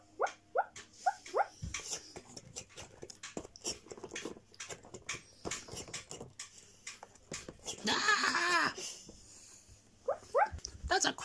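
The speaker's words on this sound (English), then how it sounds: "he's still a puppy and very excitable." An excitable young puppy yelps and barks in short bursts, close by, with a whimpering whine, while people talk in between.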